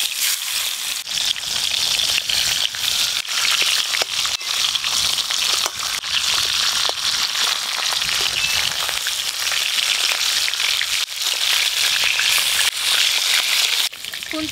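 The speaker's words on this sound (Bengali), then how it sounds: "এবার ইলিশ মাছের মাথাগুলো ভেজে নেব।" Hilsa fish heads fry in oil as a spatula breaks them apart. A loud, constant hissing sizzle is laced with crackles and small scraping crunches throughout, close by, with no talking.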